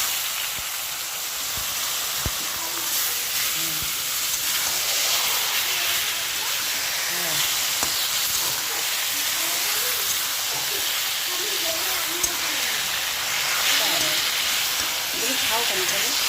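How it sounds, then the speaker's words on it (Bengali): Taro stems hitting mung dal frying in a pan, a steady hissing sizzle with scattered crackles that holds throughout at close range, while a person occasionally speaks over it. "এই যে মুগের ডালটা একটু ভাজা ভাজা হয়ে গেল, এর মধ্যে এবার এই কচুর ডাঁটাটা দিয়ে দেবো।"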